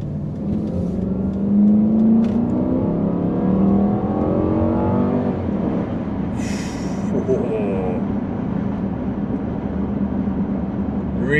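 Volvo S80 V8 car accelerating hard off the line, engine note climbing in pitch over several seconds from inside the cabin, then settling into a steady loud road drone.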